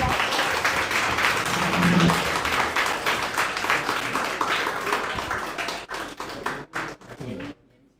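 At an evening forum on Malaysia's future, an audience applauds the candidates with a dense, lively round of clapping that thins into a few scattered claps and then stops.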